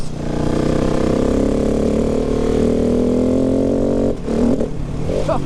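A 2019 KTM 690 Enduro R single-cylinder engine drones steadily and loud while riding, holding an even pitch before a brief dip and rise near the end as the throttle shifts.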